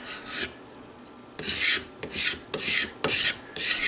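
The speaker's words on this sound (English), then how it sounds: "So just keep scraping until they go away" A steel scraper is drawn repeatedly across a rough wooden gunstock, a series of close, crisp rasping strokes in an irregular rhythm with brief pauses between.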